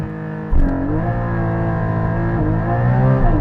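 A 2021 Porsche Cayman GT4 launches hard, its engine bursting into a loud, rising roar that climbs steadily in pitch through the gear as the car accelerates, close and continuous.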